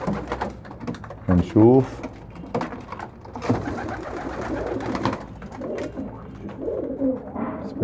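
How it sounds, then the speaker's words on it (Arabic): Racing pigeons flying loose in a room coo and flutter at close range, their soft calls mixing with someone speaking Arabic throughout and occasional wing and door noises. "لان الحمام طاير في الغرفة مش محبس في عيون"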